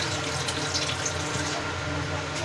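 Water runs steadily from a kitchen tap while a bread slice is readied for a homemade mini pizza, a continuous close hiss with no pauses.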